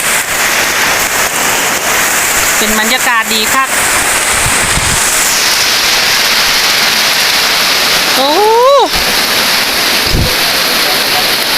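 Steady broadband hiss of the first rain of the year falling throughout, with someone talking over it in Thai and brief bird-like chirps in between.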